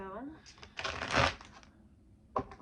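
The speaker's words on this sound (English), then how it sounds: "I just have a habit of shuffling" A deck of playing cards being shuffled by hand, a riffling burst with a brief second flutter near the end, close and fairly soft, with a voice heard briefly at the start.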